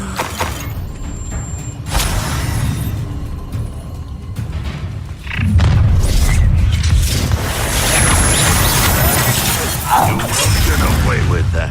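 An Incendio fire spell bursts with a booming, crackling blast in the Hogwarts Legacy video game, loud and sustained amid combat effects, with voices speaking over it.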